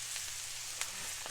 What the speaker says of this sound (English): It sizzles, that's what it does.